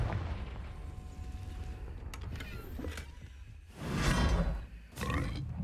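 A Confringo blast spell bursts in Hogwarts Legacy, booming explosions rising over a low game rumble, with two loud surges of blast noise near the end.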